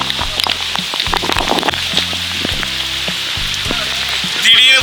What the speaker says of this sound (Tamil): திடீர்னு பார்த்தீங்கன்னா மழை பெஞ்சனால